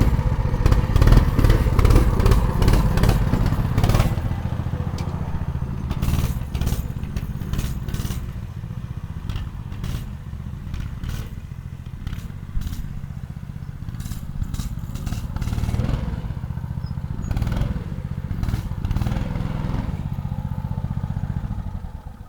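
A CT100U minibike fitted with a new engine runs in a yard, its small single-cylinder motor chugging and revving unevenly over about twenty seconds, with clattering and rattling knocks, close and loud.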